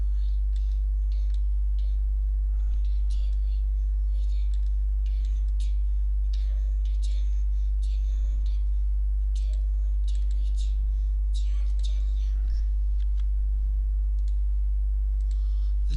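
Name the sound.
typing on a computer keyboard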